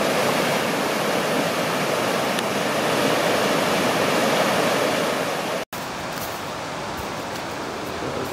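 Rock Creek's rapids rush past a bridge and an old blown-out dam, producing a loud, constant broadband roar of whitewater that fills the scene, with a brief cut before the same steady torrent resumes.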